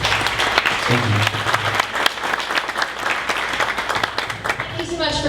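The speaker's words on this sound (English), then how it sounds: "One more round of applause." Audience applause at a 1 Million Cups Dallas startup pitch event, steady dense clapping filling the room for several seconds, with a voice or two briefly audible beneath it near the end.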